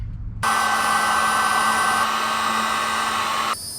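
A heat gun starts abruptly and blows steadily for about three seconds while heating a solder heat-shrink butt connector on a light pod wire, giving a loud, close whooshing roar with a constant whine before it cuts back.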